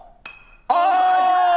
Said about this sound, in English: He dropped something that's glass and it bounced.